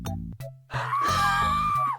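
A long, sustained high-pitched scream from video game characters held near and loud for over a second, preceded by short low game noises.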